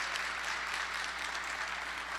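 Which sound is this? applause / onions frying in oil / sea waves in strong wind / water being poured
applause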